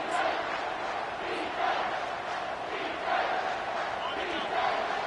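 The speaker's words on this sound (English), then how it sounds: "this big crowd doing everything possible to inspire this defense down here near the goal line" A big stadium crowd at an Ohio State football game roars steadily, the swell rising and falling in waves with distant shouting, and no close voices.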